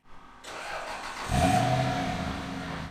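A V8 car engine with muffled exhaust rumbles low and subdued, swelling as it revs up briefly then settling into a muffled idle, close by with no voices.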